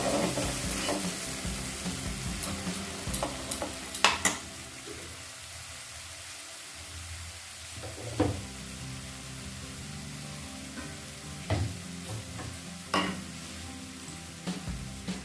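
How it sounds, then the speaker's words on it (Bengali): Mustard and poppy seed paste fries in oil in a pan for a Bengali rohu fish curry, a steady close sizzle broken by scattered clatters of stirring; no one talks. "সর্ষে পোস্তটাকে একটু তেলে ভেজে নেব"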